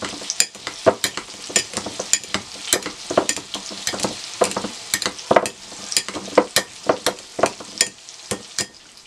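Crackling sizzle of a cod fillet frying in a pan, with irregular sharp pops and spits throughout, close and fairly loud, no talking.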